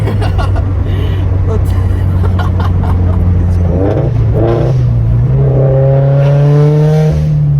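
A turbocharged Subaru BRZ fitted with a Tomei 80R exhaust revs loudly up close, the engine note climbing and dropping through several rises, with people talking over it.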